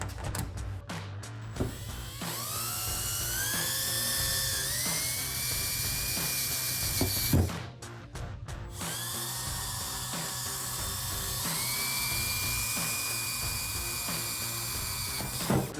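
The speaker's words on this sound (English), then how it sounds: "The reason we drill slow" A power drill with a 1/4-inch bit whines steadily at a low, slow speed while installing a rear spoiler on a Dodge Charger, with a brief pause midway before it spins up again, close and fairly quiet.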